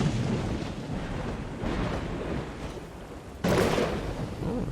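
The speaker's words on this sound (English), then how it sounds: "We're gonna see lightning hit people again." Lightning strikes with thunder in the prehistoric game Dawn of Man: a windy, rumbling storm wash swells in waves, then a sudden loud crack lands near the end before the rumble continues.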